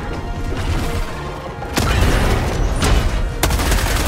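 Grenade explosion in Helldivers 2, a loud crashing blast over continuous battle noise, followed by further sharp bangs and debris-like rumble.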